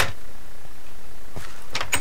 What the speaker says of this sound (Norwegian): Så kan jeg få satt opp døra.